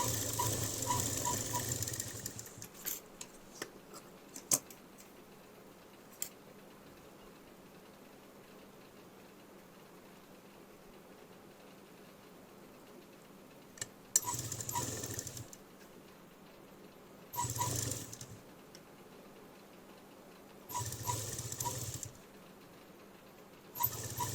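A sewing machine stitches a folded one-inch strip for a blouse sleeve in several short, quiet bursts of rapid whirring separated by long near-silent pauses.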